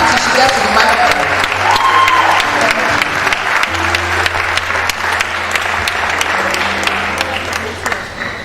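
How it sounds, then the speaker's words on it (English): Sustained applause from a crowd at a medical college conference closing ceremony, steady and loud throughout, with dense clapping and a low murmur beneath. "Keep clapping until she gets to the microphone."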